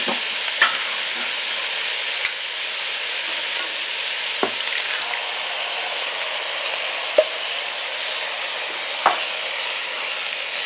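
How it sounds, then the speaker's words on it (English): Canned diced tomatoes hiss into a hot pot of beef, bean and cabbage stew, a steady sizzle under a few sharp spoon clinks and knocks spaced across the clip, no voices. "We're going to add in a can of diced tomatoes."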